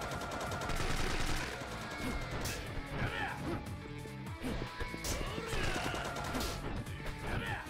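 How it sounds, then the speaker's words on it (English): Gunfire from a gun in the video game Yakuza 4 Remastered, repeated sharp shots and impacts mixed into busy game sound and music, dense throughout with talk mixed in. "He's shooting me with a goddamn gun."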